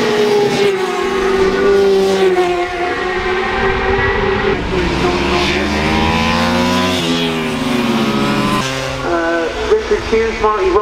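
Racing motorcycles roar out of the last corner at the Aberdare Park road races, engines revving and shifting pitch as they pass close and loud, with a commentator's voice audible over the pack.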